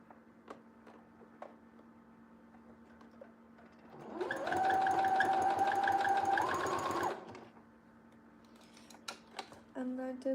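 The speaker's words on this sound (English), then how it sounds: "And I'm back stitching." A sewing machine back stitching an elastic band runs in a steady mechanical whir for about three seconds, flanked by quieter clicks and handling taps, close up.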